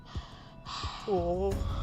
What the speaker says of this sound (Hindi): सांसों की आवाज कहाँ से आ रही है?